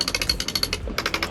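A sailboat winch spun by hand in a spin test gives off a fast, even ratcheting clatter of regular clicks, close and loud, with a brief pause partway through before the clicking resumes.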